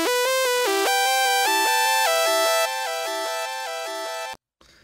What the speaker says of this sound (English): And this is literally just a saw with portamento